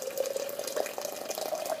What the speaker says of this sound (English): I'm going to go ahead and pour it in here.